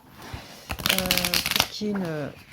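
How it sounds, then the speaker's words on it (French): Lenormand oracle cards being shuffled by hand, a close crisp riffling and flapping of card stock that runs through most of the moment, with a voice speaking over parts of it. "j'aime bien les mélanger comme ça"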